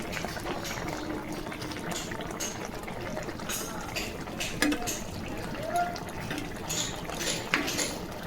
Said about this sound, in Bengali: এবার একটু ফুটে গেলে তারপর নামিয়ে নেব।